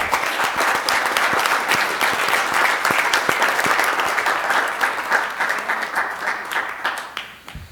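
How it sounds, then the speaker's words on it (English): A room at a city council meeting breaks into loud, sustained applause from many hands clapping close by, slowly thinning toward the end. "You're clapping kind of loud there"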